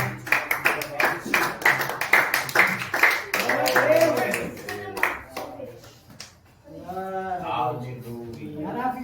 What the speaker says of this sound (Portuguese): E as palmas ao Senhor Jesus.